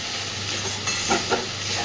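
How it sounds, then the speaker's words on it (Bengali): Lentils fry with spices for khichuri, a loud, steady sizzle close by, broken by a couple of soft stirring scrapes near the end, with nobody speaking. "ডালটাকে আগে খুব ভালোভাবে মশলার সাথে খানিকক্ষণ কষে নেব।"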